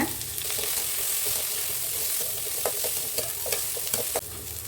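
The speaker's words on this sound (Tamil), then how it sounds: "இப்போ வந்து வெங்காயத்தை சேர்த்துக்கிறோம் கருவேப்பிலையும் போட்டு சேர்த்துக்கலாம்" Onions and curry leaves frying for a mutton curry, a continuous soft sizzle with several spoon-stirring scrapes and clicks, fairly faint and close.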